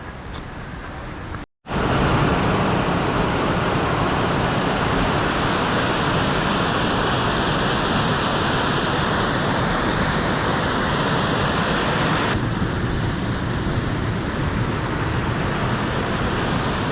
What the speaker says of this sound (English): a massive waterfall through here.